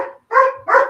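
A dog barks loudly and close by, two sharp barks after a softer first yelp, with no other sound.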